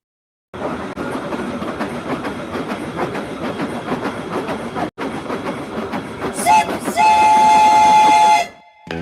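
A train rolls along with a dense rhythmic clatter, then a loud, sustained whistle blasts over it before cutting off near the end; no one speaks.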